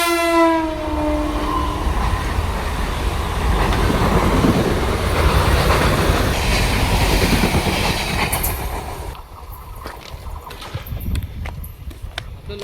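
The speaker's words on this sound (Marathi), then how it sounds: "इकडून समोर पण एक ट्रेन येते" A Mumbai local train running between Diva and Kopar stations sounds its horn, then roars past loudly nearby with heavy rumble and rhythmic wheel clatter before fading.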